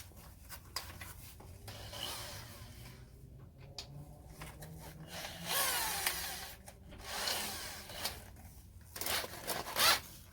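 A drill bit bores into a steel transmission crossmember being modified to fit a New Edge Mustang, with bursts of grinding, rasping drilling separated by pauses and faint handling noises, close and fairly quiet.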